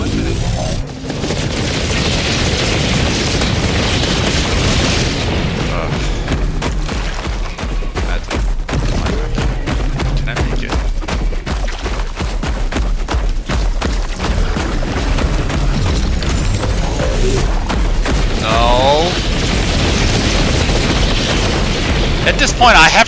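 Explosions in Helldivers 2, loud repeated booms and bursts of gunfire packed densely together, near and continuous with a person talking over the din.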